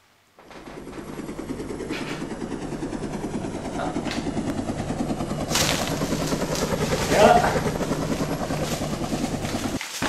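A helicopter hovers and flies nearby during a drop of a garbage bag of retro games, a steady rotor chop and engine drone running throughout with a louder swell midway, mixed with faint voices.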